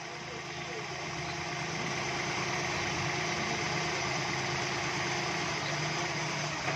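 A Suzuki Cultus car engine idles with loose screws, a steady close low hum and vibration running throughout without break.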